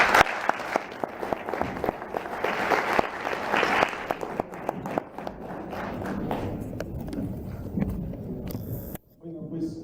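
An audience at a national congress applauds, with dense clapping swelling early and thinning into scattered claps and rustle, a voice briefly audible before it cuts off near the end.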